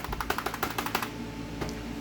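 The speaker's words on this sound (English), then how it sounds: "Why is my keyboard not working?" A computer keyboard clatters with quick, evenly spaced keystrokes for about a second, then stops, leaving a faint hum with one more tap near the end.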